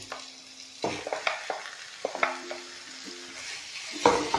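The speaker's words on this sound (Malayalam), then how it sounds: "ഇനി നമ്മൾ എടുത്തു വച്ചിരിക്കുന്ന ചിക്കൻ നമുക്ക് ഇതിലേക്ക് ഇട്ട് കൊടുക്കാം." Chicken pieces drop into a pan of fried onions for Mughlai handi chicken, then a spatula stirs and scrapes through the steady sizzle, with several sharp clacks and rustling pushes, close and clear.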